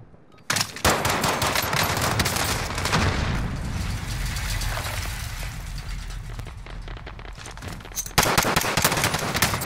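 Rapid machine gun fire in a war video game, dense crackling bursts up close that stop abruptly, leaving a quieter rumbling battlefield, then resume in a sharp, loud stretch near the end.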